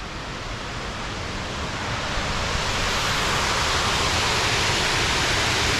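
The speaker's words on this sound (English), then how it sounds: "very impressive stepped outflow" Water from a reservoir rushes down a stepped outflow swollen by heavy rain, feeding the River Ripponden in Calderdale. It is a loud, steady roar that builds slightly and carries no voices.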